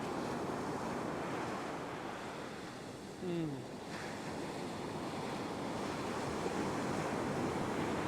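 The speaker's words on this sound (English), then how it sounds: "there's quite a few waves washing around out there at the moment" Turbulent ocean surf washes steadily onto a fishing beach, a continuous broadband roar of breaking waves mixed with wind across the whole stretch, with one brief faint tonal chirp partway through.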